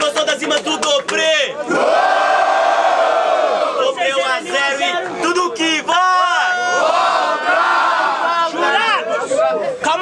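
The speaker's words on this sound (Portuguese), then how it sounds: "muito barulho quem gostou das rimas do Dobre!" A rap battle crowd in Brazil roars and shouts in a loud, sustained wave of cheering, with whoops and chanting rising and falling over several seconds.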